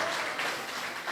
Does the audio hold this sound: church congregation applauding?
yes